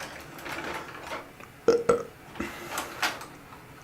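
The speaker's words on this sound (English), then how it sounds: "Another gratuitous burp for you." A single burp bursts out loud and close in the middle, standing out against a quiet indoor room with faint background noise.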